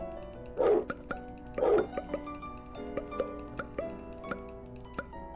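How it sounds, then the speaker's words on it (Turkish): A dog in a video game gives two close, clear barks about a second apart, followed by a run of light ticking clicks over a faint steady hum. "Köpek."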